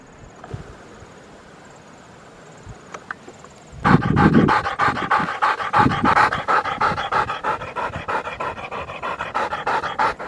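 A dog pants rapidly and rhythmically close by, loud and continuous after a quiet start with a few small rustles, after wild boar hunting in Otago in winter.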